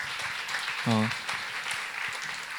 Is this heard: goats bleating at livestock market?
no